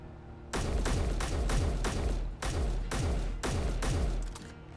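Defense turrets in the Space Engineers video game fire in rapid, continuous bursts, a loud, dense rattle of shots with sharp repeating cracks and only a brief dip in the stream of fire.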